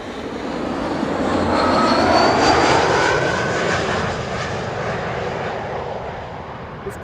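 A large airliner landing at Amsterdam Schiphol Airport in gusty crosswind, its engine roar swelling to a loud peak then slowly easing off as it passes, continuous and alone for several seconds.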